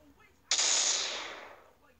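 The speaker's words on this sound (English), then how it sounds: "I just have to explode myself up there." Explosion in the physics video game Physics Archer: one sudden loud blast that cuts in sharply and decays over about a second and a half, heard alone.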